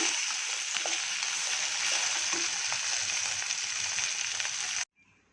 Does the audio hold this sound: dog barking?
no